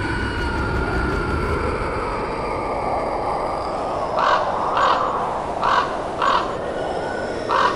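Crows caw several times in a short rhythmic series over a steady bed of outdoor noise with faint bird chatter, the calls fairly close and clear.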